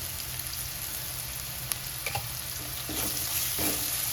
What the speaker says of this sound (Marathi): आणि हे चांगलं परतून घ्यायचं